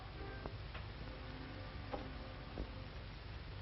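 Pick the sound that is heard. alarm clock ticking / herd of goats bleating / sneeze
alarm clock ticking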